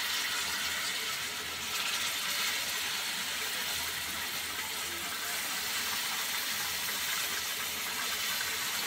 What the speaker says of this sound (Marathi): आता यामध्ये हे आपण जे धुवून घेतलेलं कडधान्य आहे मिक्स कडधान्य ते टाकायचं।